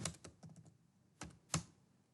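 Close computer keyboard typing while code is entered, a quick run of clicks followed by a pause and two sharper isolated keystrokes, quiet and with no talking.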